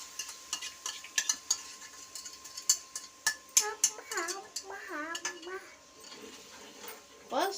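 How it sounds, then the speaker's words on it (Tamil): Gram flour, sugar and milk mixture being stirred in ghee in a pan for barfi: a spoon scrapes and clinks steadily against the pan with a soft sizzle, while a voice talks partway through. "ஏற்றிட்டு கைவிடாமல் கிண்டிகிட்டே இருங்க"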